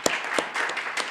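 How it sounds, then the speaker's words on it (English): Brief applause rises from the audience at a county commissioners meeting, a short patter of claps heard up close. "Let's give that a round of applause."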